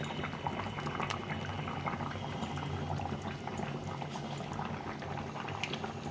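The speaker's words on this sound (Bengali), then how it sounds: "ঝোলটা ফুটে গেছে দেখো কত সুন্দর কালার হয়েছে টমেটো দিয়ে" Tomato fish curry bubbles in a pot, a steady soft boil with light popping that carries on evenly throughout. No voices.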